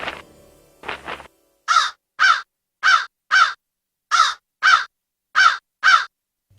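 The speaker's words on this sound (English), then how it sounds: "Can you understand what this crow is saying, Birbal?" A crow caws eight times in a steady, evenly spaced series, loud and close, after a short burst of other sound at the start, with silence between the calls.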